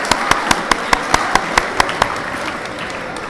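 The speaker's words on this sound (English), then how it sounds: "why don't you give yourselves a round of applause" Students and parents at a 7th grade award assembly give a sparse round of applause: about ten distinct, evenly spaced claps ring out, then fade into low room murmur.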